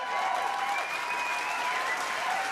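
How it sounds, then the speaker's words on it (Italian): An outdoor crowd in the town square of Villanova di Guidonia claps at a talent show, a steady, fairly distant wash of applause with whistles and cheers rising above it. "Anche per voi l'applauso della piazza di Villanova di Guidonia"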